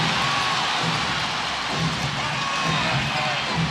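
A dense, steady roar from a packed basketball arena crowd during the 2003 NBA Finals Game 6, Nets at Spurs in San Antonio, a continuous wash of noise with no distinct voices standing out.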